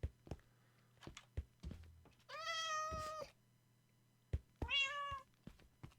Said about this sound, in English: Oh yeah, there's all those cats on the ice.